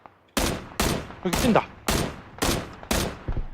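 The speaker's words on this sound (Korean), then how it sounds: "총소리" Repeated loud video game gunshots ring out in quick succession, about six sharp bursts over a few seconds, with a voice briefly speaking between them.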